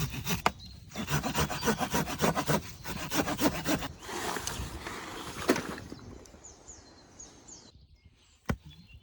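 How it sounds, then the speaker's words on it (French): A handsaw cuts wood outdoors in a forest, with rapid, rhythmic rasping back-and-forth strokes up close, then a pause followed by a few slower strokes and a sharp knock near the end. "là on va procéder à de la découpe de bois pour les mettre justement ici"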